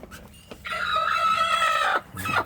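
A rooster crows loudly and close, one drawn-out call, with brief clucking from chickens just before and after.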